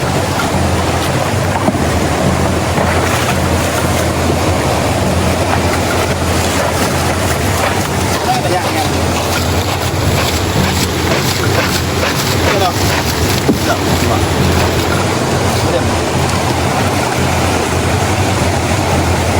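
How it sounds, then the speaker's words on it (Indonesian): Very large waves around a small boat at sea, with strong wind buffeting the microphone; a loud, continuous roar of water and wind runs throughout. "Ini gelombang yang sangat besar."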